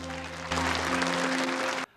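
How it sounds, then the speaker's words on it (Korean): A burst of applause fills a ground space-flight control center at a spacecraft docking, many hands clapping steadily over a low electronic hum, then cuts off abruptly. "이윽고 둘이 도킹하는 순간 지상관제센터에서 박수가 터져 나옵니다."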